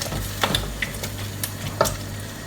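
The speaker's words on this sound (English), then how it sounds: "And then I'm going to give it one last stir through, because the tomato puree actually thickens up your" A spoon stirs thick tomato sauce with tomato puree for a vegetable lasagna, giving soft scraping strokes and a few sharper clinks against the pan over a low steady hum, close and fairly quiet.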